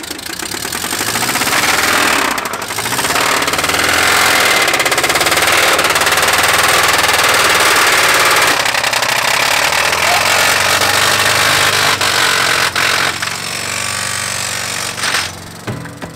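A Toyota engine run with maple syrup in place of oil knocks hard and fast with rod knock, a loud, close, steady metallic hammering over the engine's roar, with no voices.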